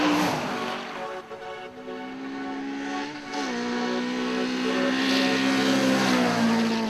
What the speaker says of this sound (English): There's nothing quite like the sound of a well-prepared engine being revved to the limit